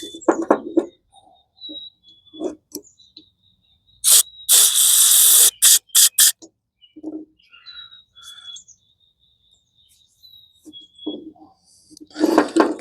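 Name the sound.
spraying carburetor cleaner into a mower carburetor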